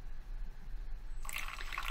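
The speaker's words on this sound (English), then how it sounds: "just press it once again to turn on the water" A battery-operated automatic cat water fountain switches on. Faint background hum gives way after about a second to a bright, steady trickle and splash of running water up close.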